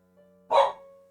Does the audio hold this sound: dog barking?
yes